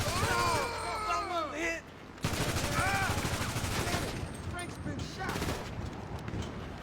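Rapid gunfire bursts and steady shooting in a GTA Online shootout against drug dealers, loud and continuous throughout, with excited voices shouting over the shots.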